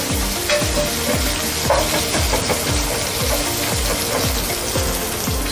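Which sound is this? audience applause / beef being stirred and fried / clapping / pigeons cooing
beef being stirred and fried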